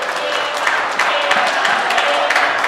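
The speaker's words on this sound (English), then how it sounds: "a round of applause for him as he enters the court again" Audience at the Uganda Open Squash Tournament 2025 applauds steadily as a player from Rwanda walks back onto the court, dense continuous clapping with a voice talking over it throughout.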